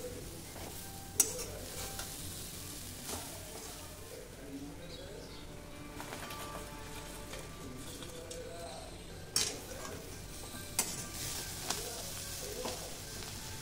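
Grated coconut dry-roasting in a pan for modak stuffing, a faint, soft crackle under occasional sharp scrapes and taps of a spatula, with quiet background chirps.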